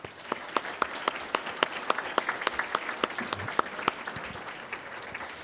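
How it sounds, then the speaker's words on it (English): An audience at a Good Scout Award dinner applauds, a moderate crowd clapping steadily with scattered sharper claps standing out, heard from nearby in the room. "let's give them a round of applause."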